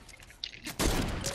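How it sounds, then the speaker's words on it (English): Gunfire in the Fortnite battle royale game, a loud dense burst of shots breaking in near the end after quieter rustling and a brief crack, with no talk. "Oh fuck, I'm getting shot at."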